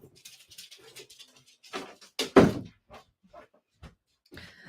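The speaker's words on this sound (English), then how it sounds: "I'm going to let the dog out." A corgi is let out through a house door, giving soft thumps and a louder knock from the door along with small dog noises and shuffling. Light indoor sounds come between the quiet stretches.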